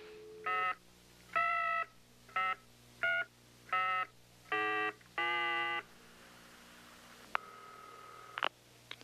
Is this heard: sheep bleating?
no